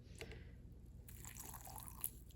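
A short trickle of water being poured, soft and close, with faint liquid splashes and no talking.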